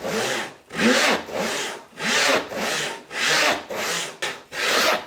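A hand saw rasps through wood in steady back-and-forth strokes, about eight full passes with brief pauses between each, close and loud with no talking.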